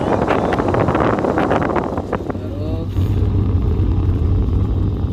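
BMW E39 on a test drive after a stage 2 tune with stock headers, heard from inside as a steady engine and road rumble with wind noise, rising then settling into a continuous low drone.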